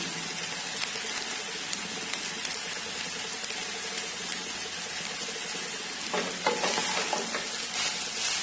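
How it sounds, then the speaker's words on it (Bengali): Vegetable fried rice, Bengali style, stirred in a pan: a soft steady sizzle with scattered scraping, growing into a busier burst of stirring toward the end, with no voices. "দিয়ে এটাকে ভালো করে নাড়াচাড়া করব।"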